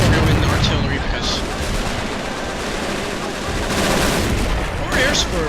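Gunfire and explosions from the World War II strategy game Men of War Assault Squad 2 during an assault on Tannenberg: a steady dense battle din with sharper shots near the start, middle and end.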